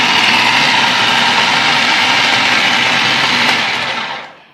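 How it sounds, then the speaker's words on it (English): A blender grinds an ice cream and chocolate protein shake, a loud, steady whirring roar held close for about four seconds before it spins down at the end. "I'm going to grind it up just a little bit more."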